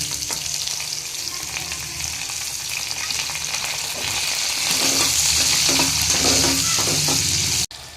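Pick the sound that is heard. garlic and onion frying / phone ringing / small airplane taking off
garlic and onion frying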